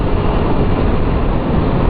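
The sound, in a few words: motorcycle with Black Widow exhaust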